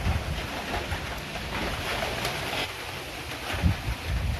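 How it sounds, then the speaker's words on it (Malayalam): Water pours from a pipe into a guppy tank, a steady close rushing splash with a few louder gurgles, with no voices. "ഇപ്പോൾ നമ്മൾ നമ്മുടെ ടാങ്കിലേക്ക് തിരിച്ച് വെള്ളം നിറയ്ക്കുകയാണ്"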